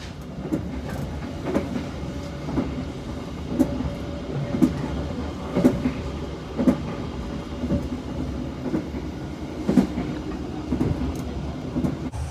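Steady rumble inside a moving economy-class train between Bandung and Purwokerto, Indonesia, with rhythmic clacks of wheels over rail joints repeating through a constant low drone.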